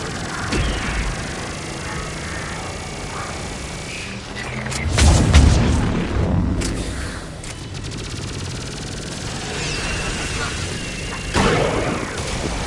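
Missile strikes land in the video game Mass Effect 3, with deep booming blasts rising out of continuous battle noise, a heavy one midway and another near the end, while voices talk over the combat.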